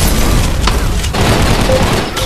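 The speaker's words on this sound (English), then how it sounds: "You were just spamming guns." Gunfire from the online shooter Gun Raiders roars as a dense, continuous barrage of overlapping shots and blasts, loud and unbroken for the whole stretch with no talking.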